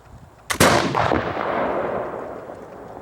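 A flintlock black powder gun fires once: a short spark crack, then a loud, close boom that rolls into a long rumbling decay lasting a couple of seconds, with no talk.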